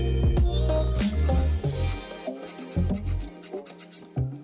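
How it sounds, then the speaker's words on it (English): A fresh lemon's yellow peel is scraped off for zest, with a series of close, rasping scraping strokes in uneven bursts and a tonal background beneath. "Now I will show you how to remove the zest part out of the lemon."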